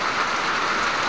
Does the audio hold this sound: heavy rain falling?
yes